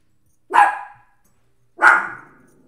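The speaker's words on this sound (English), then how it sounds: "stop barking, please." A dog indoors lets out two loud, sharp barks spaced over a second apart, close to the microphone, with silence between them and no talking.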